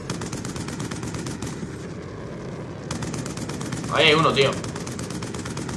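Rapid automatic gunfire in Black Ops 2 multiplayer, a steady rattling stream of shots that briefly drops out mid-way, with a player's voice speaking over it.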